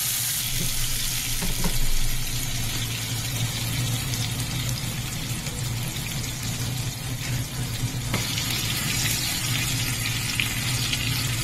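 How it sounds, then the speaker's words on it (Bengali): Potatoes with turmeric fry in plenty of oil for a Bengali pabda fish curry, giving a steady, even sizzle that runs throughout with a few faint clinks and no voices. "হলুদ দিয়ে দিলাম। এবার এগুলোকে অল্প ভেজে"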